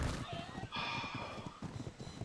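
A horse in a video game pounds along in quick hoof beats under a man's speech, moderately close, with a brief brighter noise partway through.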